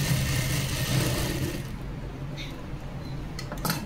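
Sewing machine stitching the cover seam on a princess-cut lined blouse, a rapid mechanical whirring with a buzzing rhythm for about a second and a half, then quieter handling clicks and rustles.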